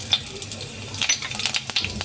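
Cumin seeds crackle and sizzle in about two and a half spoons of hot oil, a soft, close patter of small pops with a faint steady hiss underneath.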